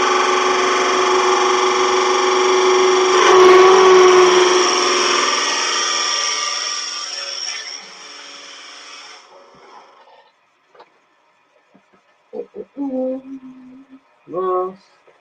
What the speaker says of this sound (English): All right, so I'm going to drill.